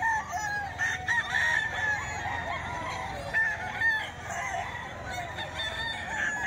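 A young bulik rooster, a bullstag, crows repeatedly amid other chickens clucking and calling, the fowl sounds layered and fairly close over a busy, steady background.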